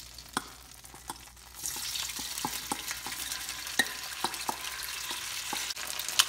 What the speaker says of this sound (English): Now we're gonna fry the tofu.